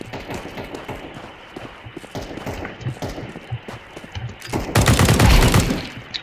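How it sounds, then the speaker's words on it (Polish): Gunfire in the Counter-Strike video game, with scattered shots and footsteps building into a loud, dense burst of rapid automatic fire near the end. "Coś tu strzela do kogoś."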